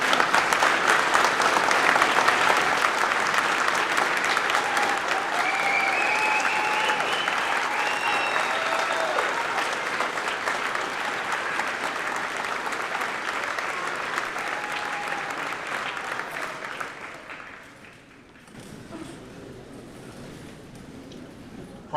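A large crowd at a 2021 high school graduation applauds loudly and steadily for a long stretch, then the clapping dies away to quieter scattered sound.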